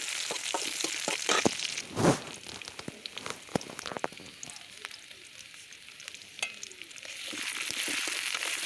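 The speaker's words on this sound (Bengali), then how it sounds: "দিয়ে দেব কড়াইতে তেল আর দিয়ে দিচ্ছি কিছু পেঁয়াজ কুচি" Chopped onions frying in hot oil in a wok (kadai) in a village kitchen, giving a steady close sizzle with scattered crackles and pops throughout, without talk.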